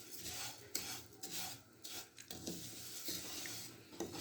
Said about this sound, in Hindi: अब सेवइयों को फ्राई करते हैं थोड़ी देर